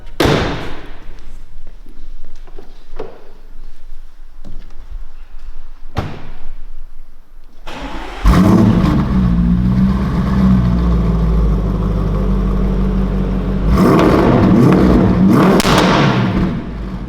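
Audi RS6 Performance with an Akrapovic exhaust, tuned to 740 PS: a few thuds and clicks, then the engine fires with a loud roar that settles into a heavy idle, followed by revs.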